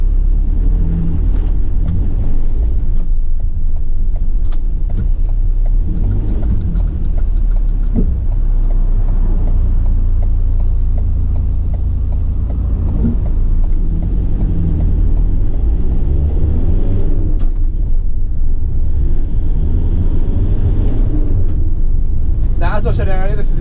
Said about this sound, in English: Going to take on a quick test drive, so let's start her up.